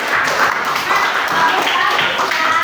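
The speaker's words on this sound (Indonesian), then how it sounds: "beri tepuk tangan untuk jawaban dari kelompok 5" A fifth-grade class claps together for a group's answer in a classroom lesson, a dense, steady patter of many small hands lasting throughout, with children's voices mixed in.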